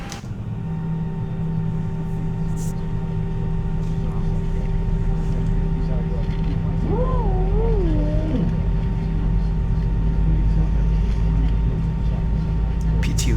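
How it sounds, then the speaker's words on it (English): The number 1 engine of an Airbus A321 spools up during start in a flight simulator, a steady droning hum with a rising, wavering whine partway through, continuous and fairly loud. "Start on engine 1."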